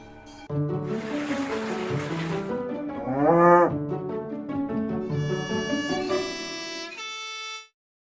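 Cows on an alpine pasture moo several times, one after another. The calls are loud, drawn-out and close, with one rising bellow in the middle and clear, quiet gaps between them. No one speaks.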